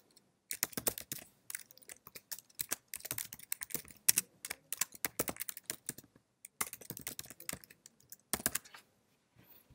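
Rapid computer-keyboard typing in bursts of quick, close clicks with brief pauses, as templates are renamed in Panorama device-configuration software.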